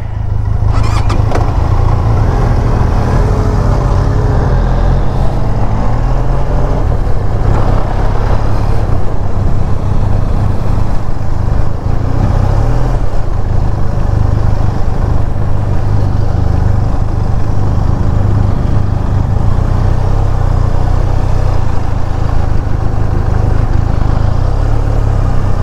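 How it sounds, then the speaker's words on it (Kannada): An off-road vehicle's engine drones loudly and steadily for the whole stretch, a heavy lorry-like rumble near at hand, on a rough dirt track at Mydenahalli Blackbuck Sanctuary in Madhugiri Taluk. "ನಮ್ಮ ಗಾಡಿಗಳು ಒಳ್ಳೆ ಭಯ ಮಾಡ್ತಾನೆ ಇರುತ್ತೆ ಸೌಂಡ್, ಲಾರಿ ಥರ ಸೇಮ್ ಲಾರಿ ಸೌಂಡ್"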